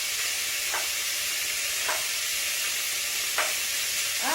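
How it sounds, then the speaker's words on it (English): Beef for beef stroganoff sizzles and crackles steadily in a hot skillet, a constant hiss with a few brief scraping stirs, no talking. "Now we're going to fry this in that same skillet that we're frying all that other in."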